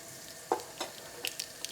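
Cumin seeds dropped into hot oil for a vegan dal tadka give a few quiet, sharp sizzling crackles and pops, spaced irregularly over a faint steady hiss.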